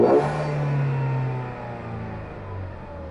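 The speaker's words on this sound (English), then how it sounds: "You can hear a turbo spool right up." A 2014 Ford Escape engine revs up hard near the microphone with its turbo spooling, a strong rising burst at the start settling into a steady, slowly falling drone.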